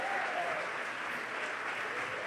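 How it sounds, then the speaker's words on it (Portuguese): A church congregation claps together during a worship service, a dense, even wash of applause that holds steady throughout with no break. "aplaude e glorifique ao Senhor Jesus"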